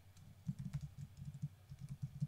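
Rapid clicking of keys on a computer keyboard, close and steady, irregular bursts of keystrokes with no voices.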